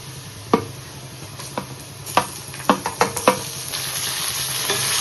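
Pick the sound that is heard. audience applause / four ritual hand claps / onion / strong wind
onion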